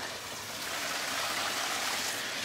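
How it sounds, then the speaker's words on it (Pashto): Clear water flows steadily down a stream at a scenic outdoor spot, a continuous close rushing wash with no voices over it. "ښایسته اوبه را روان"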